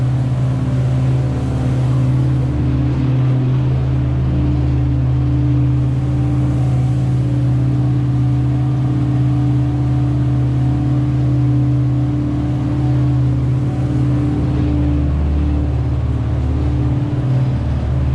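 An empty spud boat's engine drones steadily at about 9 to 10 knots in Louisiana, a low continuous rumble with a faint wash of water and wind, no voices.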